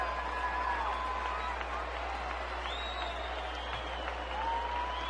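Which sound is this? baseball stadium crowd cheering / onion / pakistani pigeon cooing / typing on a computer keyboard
baseball stadium crowd cheering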